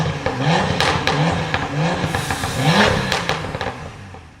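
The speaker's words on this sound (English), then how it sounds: "the straight 6 engine with the pops and crackles from the exhaust" A BMW M2 coupe's straight-six engine revs repeatedly in rising pulls, with sharp exhaust pops and crackles between bursts, heard close and loud.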